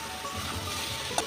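Cabbage cooking with liver sizzles steadily in a pan, a soft continuous frying hiss with a faint stirring scrape near the end and no voices.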